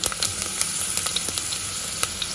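Green chilies and cumin seeds fry in hot oil over a low flame, a steady close hiss with small crackling pops scattered through it, no voices.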